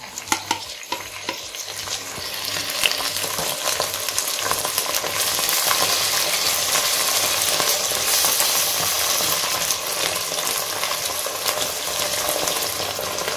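Ground spices and whole spices fry in oil in a pan for goose meat curry, a loud, dense, continuous sizzle with steady stirring scrapes, close and without talk.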